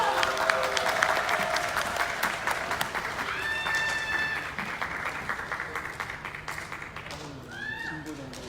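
Crowd at an outdoor disability rights protest rally in 2019 applauding for several seconds, a dense, sustained clatter of many hands that slowly fades, with speech and other voices audible over it.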